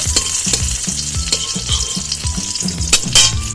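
Marinated fish fries in a pan at a wedding-eve feast, a loud, constant close sizzle with occasional stirring scrapes and clinks, while a steady rhythmic thumping pulses underneath.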